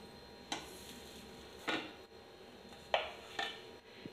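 A lid is set over a pan of cooking palappam, the soft rice-batter hoppers made in the morning: four sharp metallic clinks and clatters at irregular intervals, close and fairly loud against a low kitchen hiss, with no talking.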